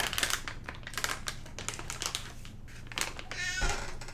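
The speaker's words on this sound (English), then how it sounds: "Who's a good little kitty kitty?" A pet cat heard faintly amid light tapping and clicking noises, ending with a short drawn-out meow-like call near the close.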